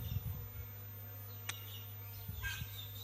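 Honeybees from a new swarm flying around their hive, a faint steady low buzzing drone with a few brief closer passes and a single sharp tick, quiet and alone.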